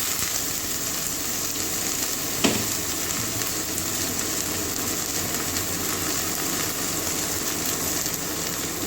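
Sliced bitter gourd and potato tossed into hot oil with onion, giving a steady broadband sizzle and crackle that runs the whole time, with one brief clatter as the pieces land.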